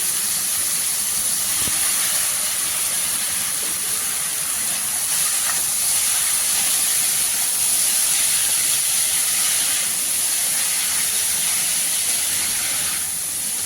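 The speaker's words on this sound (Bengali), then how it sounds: "আঁচটাকে কমিয়ে আস্তে আস্তে কিন্তু কপিগুলো ভাজতে হবে।" Shredded cabbage with chili powder fries in a pan over low heat, giving off a loud, unbroken hiss of sizzling that holds steady from start to finish with only faint stirring underneath.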